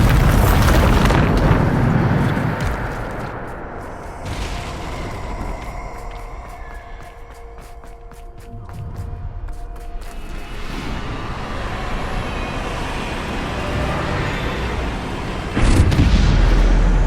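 Bombarda blasting spell in the video game Hogwarts Legacy, heavy booming explosions with a long rumbling roar, loud and close, a big blast at the start and another sharp burst near the end, no talking.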